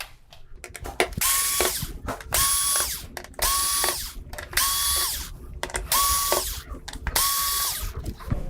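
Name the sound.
screws being removed from TV main board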